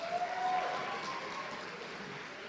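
A crowd applauds the senior dance team members at a high school boys basketball game, a dense, steady clapping that fills the gym, fairly loud and continuous with no talk over it.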